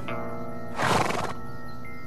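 A horse neighs once, a loud, close whinny of about half a second standing out against a steady background hum.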